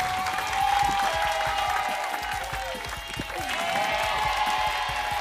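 Audience at the Panasonic Gobel Awards applauding, dense steady clapping throughout with a tonal music or feedback line ringing above it.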